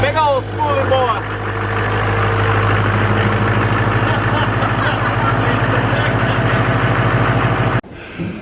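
An engine fitted with an S400 turbocharger runs loud and close with the turbo spinning, and rising whistles are heard early. A steady, heavy roar continues throughout, then cuts off abruptly near the end.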